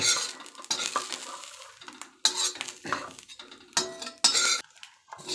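Roasted grated coconut scraped from a pan onto a plate: a series of sharp metallic scrapes and clinks in irregular bursts with quiet gaps between them.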